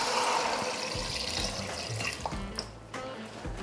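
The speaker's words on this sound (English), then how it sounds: "And then finally, just add in a little bit of water." Water poured into a lamb and sausage gumbo pot, a steady splashing stream near and moderately loud that thins out, followed by a few soft drips and clinks.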